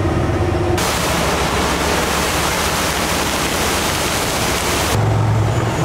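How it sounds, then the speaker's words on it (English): A small waterfall pours in heavy rain near Williams, Arizona, a loud, steady broadband rush of falling water that fills the whole stretch without letup. "Look at the waterfall. Got a little waterfall."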